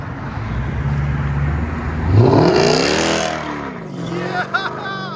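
A straight-piped 2007 Mercedes S 550 5.5L V8 with converters and an X-pipe revs hard, rising to a sharp roar, then settles into a deep burbling idle with a few crackles.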